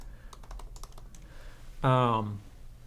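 Rapid, light clicks of typing on a computer keyboard come first, close and fairly quiet, followed by a short burst of a voice.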